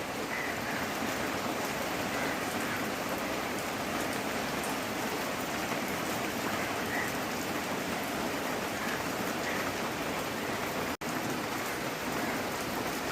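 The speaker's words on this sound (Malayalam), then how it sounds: "മഴ പെയ്യുന്നുണ്ട്" Steady, even rainfall pattering on surfaces, heard alone with no voices, continuing throughout with only a brief dropout near the end.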